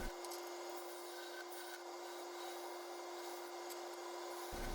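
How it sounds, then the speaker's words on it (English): A skew chisel scrapes continuously against cherry wood spinning on a lathe while turning a platter, a steady rasping rub over the lathe's constant hum, close and even throughout. "Using the skew chisel here to start the area of the mortise."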